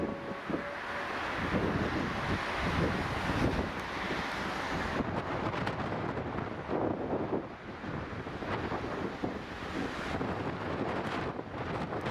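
Strong winds from Storm Beryl tear across Manchester Airport, a loud, continuous roar of gusts that batters the microphone for the whole stretch, with no voices heard.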